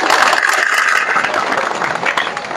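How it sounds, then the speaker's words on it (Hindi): Audience at a school event applauding a student, a dense burst of clapping that stays loud and steady for a couple of seconds with no voices on top. "जोरदार तालियां"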